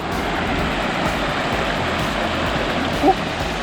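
Steady, full-band rush of an Arizona creek flowing near a waterfall, continuous and fairly loud throughout with no pauses, a brief faint higher tone rising just above the water near the end.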